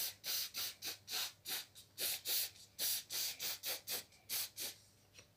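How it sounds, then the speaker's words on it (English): Hairspray comes out in a run of short, sharp aerosol bursts, about fifteen quick pumps in a fairly even rhythm, close and clear with no voice over them. "Hairspray."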